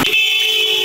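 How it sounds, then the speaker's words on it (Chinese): A car horn sounds in one sustained, loud, steady blare on a city street during a traffic dispute with a motorcycle, alone with no talk. "轿车按喇叭超车，机车也回按喇叭互呛"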